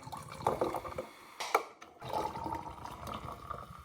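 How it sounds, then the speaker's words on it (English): Tonic water pours and splashes into a glass for a gin cocktail in a couple of short bursts, faint and close, with a brief pause between. "Tonic water."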